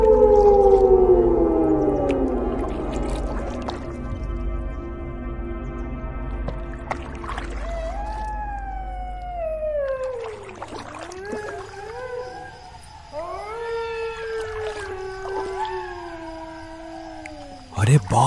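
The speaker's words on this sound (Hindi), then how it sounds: "अरे बाप रे, ये सियार कितनी डरावनी आवाज में चिल्ला रहे हैं।" Jackals howl at night, several drawn-out wailing, sliding cries that rise and fall and overlap, with a loud droning tone and low rumble at the start.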